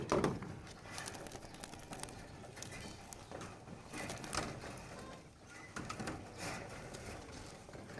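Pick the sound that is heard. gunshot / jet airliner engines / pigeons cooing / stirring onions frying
pigeons cooing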